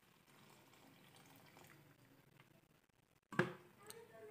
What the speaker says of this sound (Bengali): এখন প্রয়োজন মতো জল দিয়ে দেব।